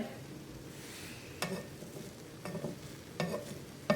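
A ham, spinach and cheese omelette cooks in a pan with a soft, steady sizzle, broken by a few light scrapes and taps of a utensil against the pan.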